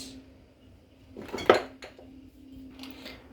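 Eggs whisked in a bowl for a Thai soup, with a few sharp clinks and scrapes of utensil against the bowl, one louder clatter near the middle, heard close and alone over a steady low hum.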